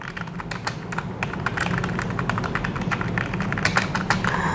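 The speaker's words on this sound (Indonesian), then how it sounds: "Dan ketika kalian ngetik, kita dengerin sama-sama nih ya." Rapid typing on a Havit KB611CM keyboard, a stream of crisp clicky keystrokes in quick irregular bursts, close and clear over a faint background hum, with no talking.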